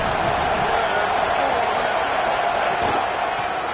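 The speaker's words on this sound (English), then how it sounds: "This crowd ready to make its presence known." A stadium crowd at a college football game at USC makes a dense, steady roar of massed voices that holds evenly throughout with no distinct peaks, like a far-off, continuous wall of sound.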